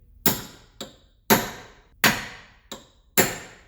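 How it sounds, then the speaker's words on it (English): Four sharp metallic hammer blows on a punch stake a CV shaft nut on a 2006 Subaru Outback. Each heavy strike rings briefly and is followed by a lighter tap, loud and close with no talking. "Take a flat chisel or any kind of punch and just stake it."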